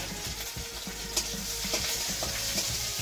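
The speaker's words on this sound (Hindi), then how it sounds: "यहाँ पे प्याज फ्राई हो रहा है" Onions frying in a pan for biryani, a steady bright sizzle with soft rhythmic stirring scrapes, close and continuous with no talk.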